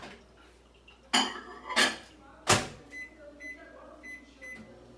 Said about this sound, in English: I want to pop this in the microwave so this part could already warm up